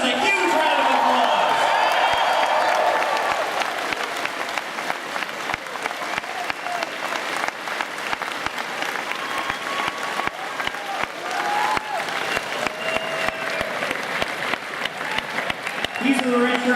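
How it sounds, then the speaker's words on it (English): Loud crowd applause with cheering and whoops fills a concert hall at a show during PAX East 2012, sustained and dense throughout, with a voice speaking over it near the start. "Give your enforcers a huge round of applause."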